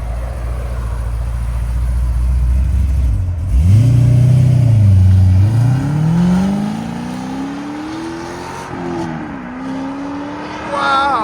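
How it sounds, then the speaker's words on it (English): A supercharged 2003 Ford Mustang SVT Cobra with a 4.6-litre V8, headers and Borla exhaust, valves closed, idles with a deep muffled burble, then revs up in a smooth rising pull, drops back, and climbs again, loud and close. "So this is pull number 1 with valves closed."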